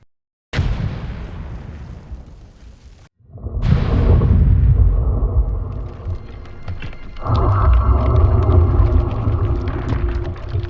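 A 5.56 rifle loaded with M855 green tip Army ammo fires loud, close shots that boom and echo outdoors, with a long rumbling tail after each blast; no talking.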